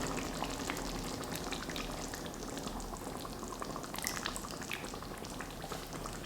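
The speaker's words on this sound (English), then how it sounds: "Now we're going to go for a whole tin of coconut milk. Let's just pour that in like that." Canned coconut milk pours into a chicken curry simmering in a pan, with a continuous bubbling, sizzling wash of liquid and small splashes, close up and without speech.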